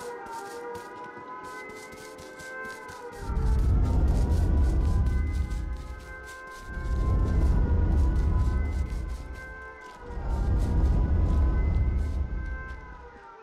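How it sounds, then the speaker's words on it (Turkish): A police car siren in the video game H1Z1 wails loudly in three long rising-and-falling sweeps over a steady tonal hum, with no talking. "Evet, polis arabası girdi."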